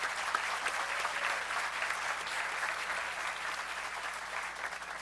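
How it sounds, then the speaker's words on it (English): Audience applause for the Keystone College Symphonic Band at a college commencement ceremony: a steady, dense wash of clapping from a large crowd in a big indoor space, sustained evenly for several seconds. "Please join me in a round of applause for the Keystone College Symphonic Band"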